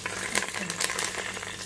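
A whole colocasia leaf sizzles in hot oil tempered with asafoetida and mustard seeds, a loud, crackling hiss with irregular pops and spits throughout.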